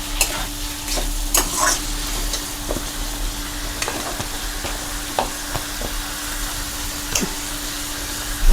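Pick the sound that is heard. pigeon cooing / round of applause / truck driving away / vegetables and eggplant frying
vegetables and eggplant frying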